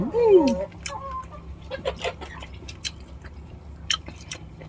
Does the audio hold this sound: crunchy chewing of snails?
yes